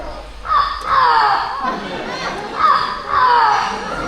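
At a bird show, an Amazon parrot imitates a rooster, giving two drawn-out crowing calls in succession against outdoor crowd noise and children's voices.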